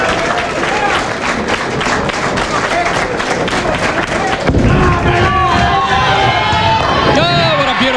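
Applause and cheering from a crowd in a bowling center after a strong shot at a 1999 professional bowling tournament, with clapping mixed with lane noise and a commentator talking over it.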